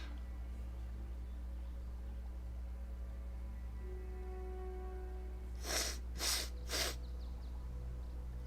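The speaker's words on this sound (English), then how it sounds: "I start sneezing" Three quick sneezes in a row from allergies over a steady low hum, fairly close and otherwise quiet.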